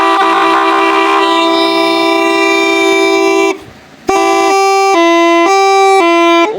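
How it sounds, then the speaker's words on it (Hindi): A loud homemade horn built to sound like a train horn blares steady multi-tone chords, breaks off briefly, then sounds again in a series of short pulsing toots. "ये जो 3 प्रकार का हॉर्न है जो ट्रेन के हॉर्न की तरह आवाज देता है।"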